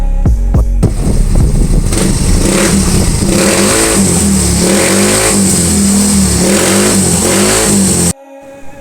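A small stock Yamaha Mio i 125 scooter engine sputters to life, then revs up and down loudly at close range for several seconds before cutting off abruptly.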